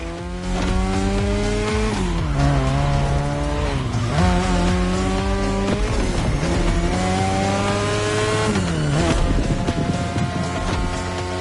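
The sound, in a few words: car drifting with squealing tires in a racing video game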